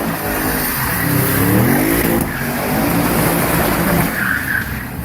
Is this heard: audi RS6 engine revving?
yes